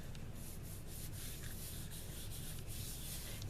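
A hand rubs pattern paper down onto a Gelli plate, making a soft, continuous papery scrubbing with quick repeated strokes, faint and close, with no talking.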